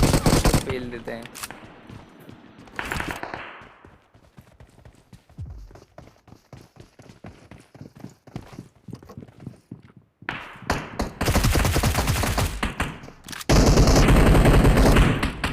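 Gunfire crackles in bursts from a building during a shooting video game, with rapid repeated shots and clattering, some louder near volleys and quieter scattered ones, plus footsteps.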